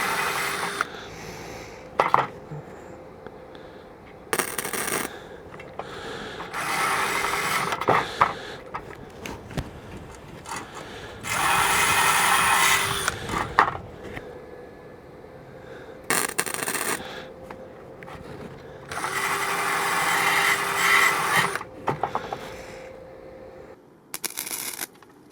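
Flux core welder laying beads on sheet metal along an existing weld, a harsh crackling buzz in bursts of a few seconds each, separated by pauses, fairly close.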